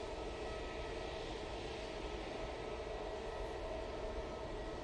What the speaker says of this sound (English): turning on to final now. We have a little bizjet. It is Bombardier Challenger 350.